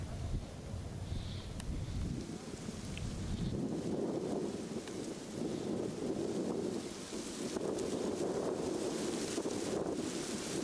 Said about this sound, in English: And the wind is definitely whipping